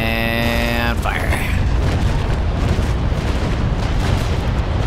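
Naval cannons fire in the naval battle game Naval Action, a heavy booming broadside that rumbles on as a dense, loud roar after a brief game tone.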